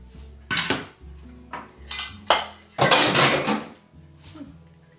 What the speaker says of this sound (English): Now I'm stirring in the noodles because I can.